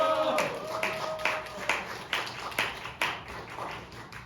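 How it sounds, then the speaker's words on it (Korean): Scattered clapping from a church congregation at a prayer meeting, a few separate distinct claps in loose rhythm under a voice calling out. "우리 한금천 목사님 할렐루야 외치며 박수로 환영합니다."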